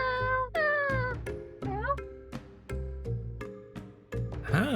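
A video game plays cat meows one after another, several tonal mews that rise and fall over a steady background music bed, fairly loud and close.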